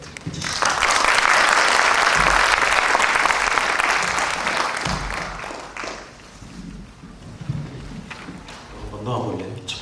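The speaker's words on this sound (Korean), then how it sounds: "다시 한번 박수 크게 해주시죠." A large audience applauds loudly at a Korean education graduate school alumni gathering, the dense clapping swelling then slowly fading over several seconds, with some talk and noise beneath it toward the end.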